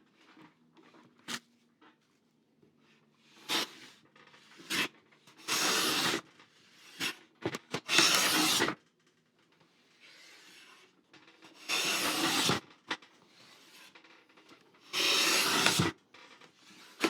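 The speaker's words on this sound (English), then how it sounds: "see if we can take a thinner shaving off that" A super flat hand plane taking thin wood shavings: several separate smooth hissing strokes, some short and some longer, alternating with quiet pauses and small knocks, close and clear.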